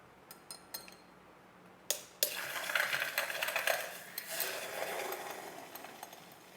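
A few light clinks of glass, then a sustained whirring, frothy hiss with rattling as instant coffee is vigorously frothed inside a glass for a Greek frappé.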